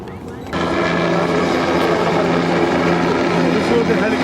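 A helicopter in flight over Brazil, its cabin filled with a loud, steady rotor and turbine drone that starts abruptly and holds constant and close throughout.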